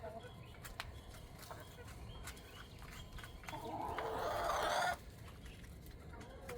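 Laying hens in a backyard flock cluck softly over steady outdoor background noise, with a louder, busier burst of clucking and fluttering activity swelling briefly near the end before settling back to a low murmur.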